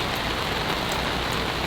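Heavy rain pours down steadily on a steep hillside being terraced, a dense, unbroken hiss close by with no voices.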